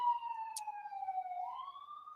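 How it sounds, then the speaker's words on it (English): A wailing siren tone slides slowly down and back up, steady and moderately distant, with no voices. "And so now you hear the sirens."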